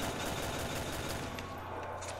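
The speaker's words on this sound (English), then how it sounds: "Gonna shoot some of them barrels." Rapid gunfire in the Nacht der Untoten zombies video game as a player shoots at barrels, a dense, loud, continuous volley of shots with no pauses.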